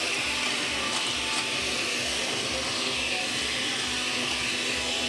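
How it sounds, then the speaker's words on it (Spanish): A blender whirs steadily as it mixes a cucumber drink, a continuous loud motor hum with broad hiss running unbroken throughout. "mientras se va preparando todo en la licuadora"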